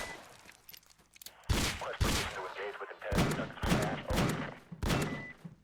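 Bursts of gunfire in the video game Random Mafia Shooter crack loudly in quick clusters, some shots overlapping, with a voice talking between volleys.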